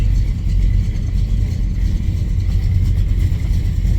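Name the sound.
car engine running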